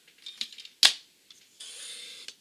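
A Fiskars paper trimmer cuts card in a series of close, sharp clicks and ticks, with a loud snap near the middle and a short sliding rasp of the blade toward the end.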